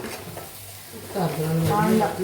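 An egg frying in a pan gives a steady close sizzle, growing louder and busier in the second half with stirring scrapes and a faint tonal layer on top.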